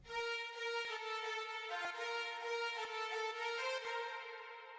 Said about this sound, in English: And this violin is from the plugin Labs.